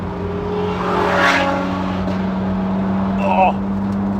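A Ferrari 458 with a V8 engine hums at a steady idle, then swells briefly as it revs, the note climbing and falling back, with a short higher chirp near the end.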